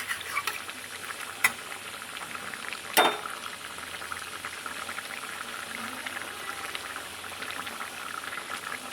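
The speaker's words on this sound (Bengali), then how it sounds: "তরকারিটা এমন ফুটবে যাতে মাছগুলো ভালো সেদ্ধ হয়ে যায় নরম হয়" Snakehead fish curry with radish bubbles steadily in a pan, a soft continuous simmer with a few sharp spoon clinks on the pan edge, close and alone without talk.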